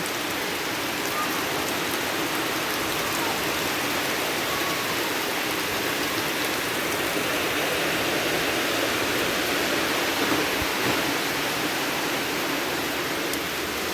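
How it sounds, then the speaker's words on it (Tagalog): Heavy morning rain pours down in a dense, steady hiss, loud and unbroken throughout, with no voices over it. "O, lumakas na naman yung ulan."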